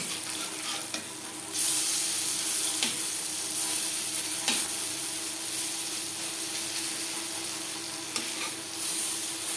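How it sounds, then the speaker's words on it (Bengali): Pakoras fry in hot oil over a medium flame, giving a steady close sizzle with faint scrapes and light clinks throughout. "হাই ফ্লেমে তেল আমি গরম করে নিয়েছি পাকোড়া ভাজবো মিডিয়াম ফ্লেমে"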